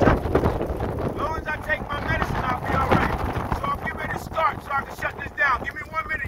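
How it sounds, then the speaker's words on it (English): Gusty wind buffets the microphone in rough bursts while someone talks over it outdoors. "It's windy as hell out here."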